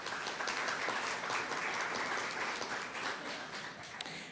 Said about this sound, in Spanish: Con un aplauso recibimos a la profesora Ethel Maldonado.